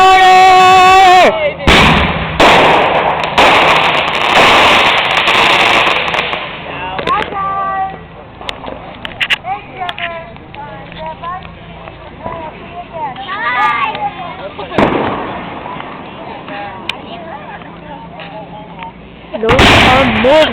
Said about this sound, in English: Those are mortars.